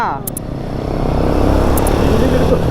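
A Royal Enfield Guerrilla 450 motorcycle pulls along on a test ride, with steady engine and wind roar that swells slightly as it picks up speed. Brief high clicks cut through.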